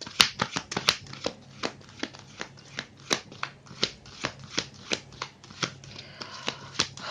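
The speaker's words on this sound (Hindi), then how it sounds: "एक और शफल मीन राशि के लिए एनर्जी कार्ड।" Tarot cards shuffled by hand at close range, producing a steady series of sharp, papery snaps and flicks in an uneven rhythm for several seconds, with no talking over them.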